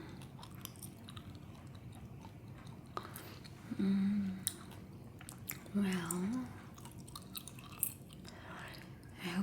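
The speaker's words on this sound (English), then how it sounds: "I hope you don't mind the gum chewing." Moist gum chewing close to the microphone, soft squishy smacks and crunchy bites in an ASMR setting, with a gentle soft-spoken voice talking quietly throughout.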